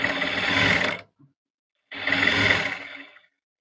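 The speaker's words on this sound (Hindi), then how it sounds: "पलटते हुए सबसे पहले हम नेक के ऊपर स्टिच लगा लेंगे।" A sewing machine stitches along the neckline of a princess-cut blouse front in two bursts of about a second each, separated by a short pause, loud and close with no talking.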